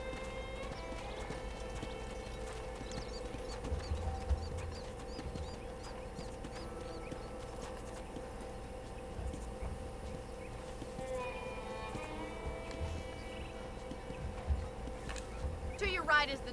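Horse hooves trotting in the Red Dead Redemption video game, a quiet clip-clop rhythm at a ranch, heard under game music and ambience with occasional bird-like calls.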